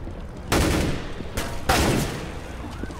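Gunfire bursts in a Counter-Strike match on the Overpass map, with two loud volleys at the start and middle and a steady rattle of shots behind them. A shot lands as a headshot amid the exchange.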